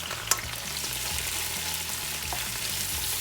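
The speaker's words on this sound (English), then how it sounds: "we're gonna saute these babies" Vegetables fry in hot oil for a fish soup, giving a continuous close sizzle and crackle, with a sharp clink of a utensil early on and soft stirring scrapes throughout, with no talking.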